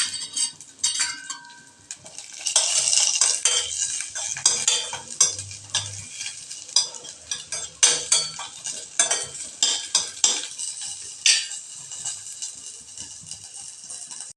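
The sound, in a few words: adding chopped cashews, curry leaves, chillies to pan, stirring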